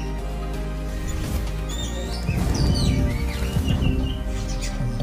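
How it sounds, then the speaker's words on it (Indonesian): Small birds chirp and twitter in scattered high calls over a steady low hum in the background of a FIFA Mobile gameplay session, with no talking. "Suara burung menjadi backsound kita"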